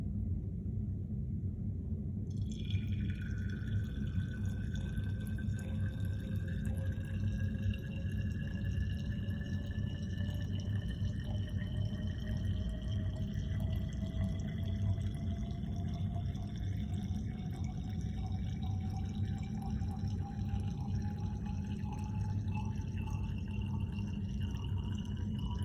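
Water pours steadily into a measuring container at a chemistry lab bench, its rising tone climbing gradually as the vessel fills over about twenty seconds, above a low background rumble with no talk.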